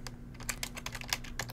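Rapid typing on a computer keyboard, a quick irregular run of close, crisp key clicks and clacks with no voices.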